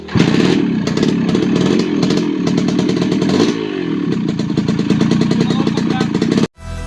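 A restored Suzuki Explorer 125 motorcycle engine runs steadily close by, a dense continuous idle with rattling clatter throughout, cutting out sharply near the end before a brief restart of noise.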